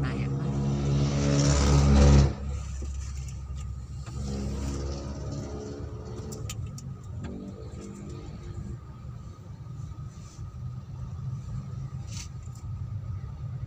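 Road traffic on a congested route between Marikina and Taytay, with cars passing and engine rumble; a loud vehicle surges close by at the start, then a steady moderate traffic drone continues with occasional faint horns.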